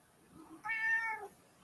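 A young kitten, just over a year old, lets out one clear, drawn-out meow near the microphone against a quiet room, with no talking.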